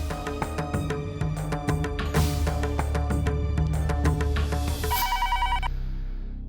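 A telephone rings in a domestic drama scene, a bright repeated electronic ring pattern that fills the room and cuts off near the end, leaving a fading tail.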